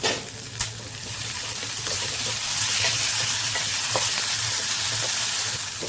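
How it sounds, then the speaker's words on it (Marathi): Onions frying in a pan for dry Bombay duck masala, a steady close sizzle that swells and holds, with a couple of utensil knocks near the start and faint stirring throughout. "आता हे 3 ते 4 मिनिटं परतून घ्यावे."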